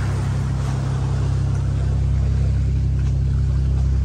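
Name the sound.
speedboat engine at Sentosa beach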